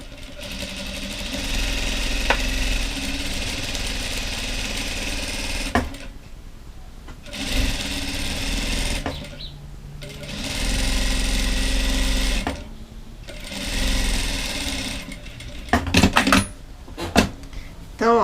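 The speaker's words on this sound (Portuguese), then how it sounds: "eu já vou costurar isso daqui" A sewing machine stitches a cotton dish towel in several steady runs of rapid mechanical whirring, separated by short pauses, with a few sharp clicks and clatters near the end.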